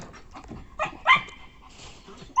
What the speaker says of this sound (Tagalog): Ayan, tinatahulan yung mga kambing